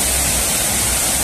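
Bhatta Falls in Mussoorie, a waterfall whose broad, loud, steady roar of rushing water fills the short stretch without a break.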